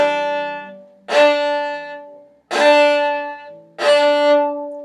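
Three bowed viola notes played with a collé stroke at the frog, each attacked with a crisp, biting start, then sustained and fading before the next stroke.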